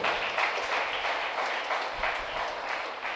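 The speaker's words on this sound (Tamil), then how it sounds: "எனவே இவர்களை அவருடைய குடும்பத்தாரையும் வருக வருக என்று நாம் கைத்தட்டி" A church congregation claps to welcome guests and their family during a feast-day Mass, a steady, dense wash of applause from a large crowd filling the hall throughout.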